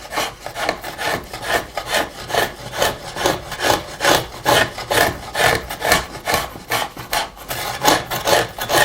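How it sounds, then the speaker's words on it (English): A scratch stock made from a bit of old hacksaw or bandsaw blade scrapes a groove into cheap pine, in loud, steady back-and-forth strokes of about two per second. "And that's used to scratch a mould or a groove."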